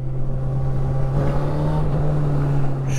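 Honda CB1000R Black Edition motorcycle engine under way, a steady, loud low drone with a strong sustained hum and rushing wind noise throughout, no speech.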